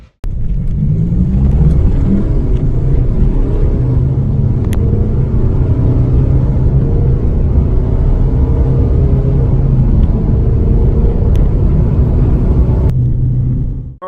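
A 4x4 diesel car with a tuning power module accelerates hard through a 0 to 100 run, a loud, sustained engine roar and rumble building steadily before cutting off near the end.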